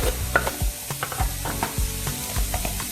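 Shrimp mofongo with garlic gets mashed in a rhythmic series of dull, thudding pounds and squishes, close up and steady, with no talk.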